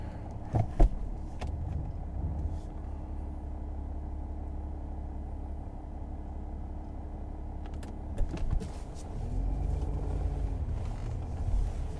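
A 2009 Mercedes E320 Bluetec diesel with a boost problem driving along, giving a low steady cabin rumble with a few brief clicks and knocks, and a gentle rise in engine tone toward the end.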